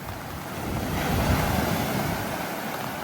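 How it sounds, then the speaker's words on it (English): Rough ocean waves breaking on a Koh Samui beach in the rainy season, a continuous rushing surf swelling in the middle, with wind buffeting the microphone and no talking. "Whoa, look at those waves."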